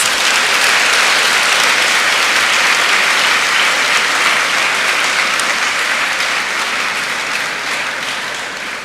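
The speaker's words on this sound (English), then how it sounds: "Please let's give him another round of applause." Loud, dense applause from a large audience after a university inaugural lecture, a continuous wash of clapping that holds for nearly nine seconds and tapers slightly at the end.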